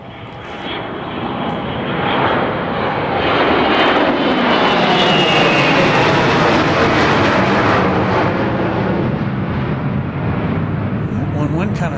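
A Bombardier Global 6000 business jet takes off at Dallas Love Field, a loud, steady jet roar that swells over the first couple of seconds and holds strong throughout, with people talking faintly underneath.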